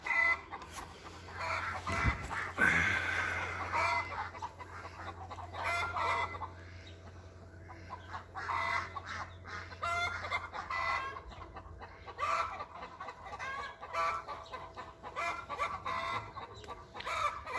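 Chickens cluck steadily throughout, with a rooster crowing partway in, over a low background hum; busy, close farmyard sound with no talking.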